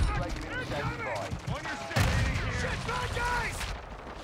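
Assault rifle fire in a video game, the Orion, comes as a burst of shots around the two-second mark, mixed with game sounds while someone talks over it throughout.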